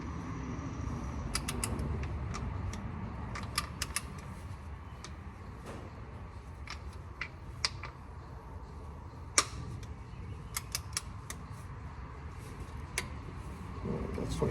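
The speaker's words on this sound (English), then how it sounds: "I've got foot-pounds torque wrench. I've got it set for 25." A torque wrench on the oil drain plug of a 2024 Toyota Tacoma makes faint ratcheting clicks in scattered quick runs over a quiet garage background, with no talking.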